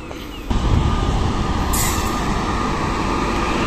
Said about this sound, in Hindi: अभी दून एक्सप्रेस आ रही है प्लेटफॉर्म संख्या 5 पर।